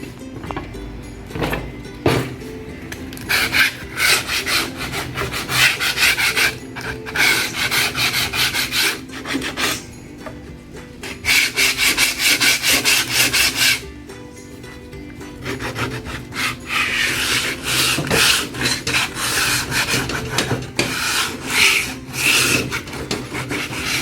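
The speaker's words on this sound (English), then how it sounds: "Then we sand it." A wooden canvas stretcher frame is sanded by hand, with loud, close rasping strokes in long rhythmic bursts separated by brief pauses.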